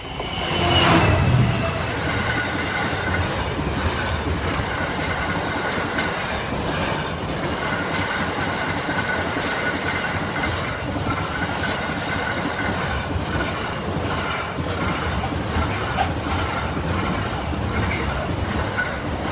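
An intermodal freight train passes a level crossing on the Lincoln Central to Sleaford line, a steady loud rumble with rhythmic wheel clatter and faint squeals that carries on for the whole stretch, close by.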